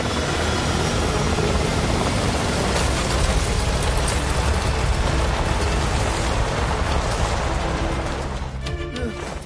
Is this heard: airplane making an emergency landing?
yes